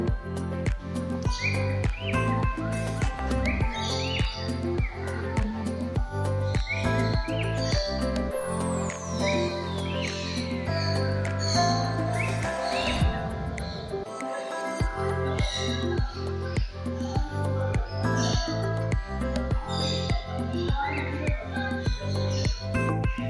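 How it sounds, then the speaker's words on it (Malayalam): Many exotic birds in an aviary chirp and call at once in dense overlapping chatter, with rhythmic clicking and a long descending whistle cutting through partway. "ഈ പല ബേർഡ്സിൻ്റെ ശബ്ദങ്ങൾ കേൾക്കാം"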